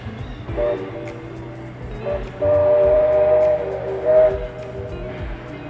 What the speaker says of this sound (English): I do love the sound of that old train whistle in the background.